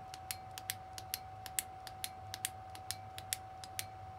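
A Surefire E1B Backup flashlight tailcap switch clicking, a quick string of faint, sharp clicks in an irregular rhythm over a low hum.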